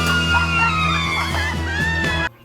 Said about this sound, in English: who show up and are promptly greeted with a scream